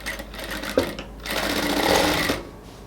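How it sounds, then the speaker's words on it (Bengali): A sewing machine runs close up, stitching the doubled hem of a salwar, with a short burst, a brief pause, then a longer steady run of rapid stitching before it stops. "এবার জাস্ট সালোয়ারটাকে ডাবল করে আমরা সেলাই করে নেব।"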